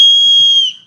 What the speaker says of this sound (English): There's a whistle in here that you can use for